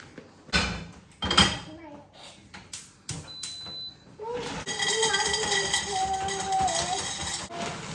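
A pot being set up to boil pasta in a home kitchen, with a few clanks and knocks of cookware followed by running water or steady rushing hiss, while a person talks over it.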